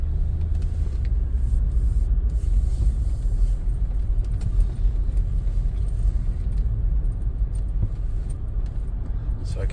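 A Toyota Sequoia TRD Sport, shifted into four-wheel drive, rolls through a turn with a steady, heavy low rumble of engine and road noise heard from inside the cabin, while a few light jingles sound over it.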